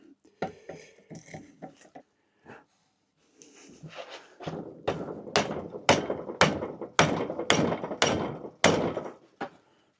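Metallic clicks and taps from tightening a part back onto a bicycle, a quick irregular series first, then a run of sharp, fairly loud, evenly spaced ratcheting knocks close by.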